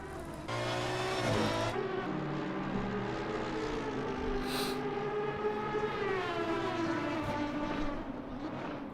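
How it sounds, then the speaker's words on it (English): Two V12 racing cars battle on track, loud high-pitched engines screaming and shifting pitch as they pass close by, continuous with no talk. "Jump on those 2 V12s, battling it out. That's quite a sight and a sound."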